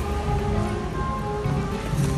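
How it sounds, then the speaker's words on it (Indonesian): Steady afternoon rain falling outdoors on arrival at an apartment complex, a dense even patter of drops that continues without a break for the whole stretch, with no voices over it. "Hujan-hujan."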